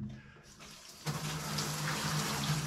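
Shower water switched on to a steady, close gushing spray after a quiet start, running continuously in a home bathroom.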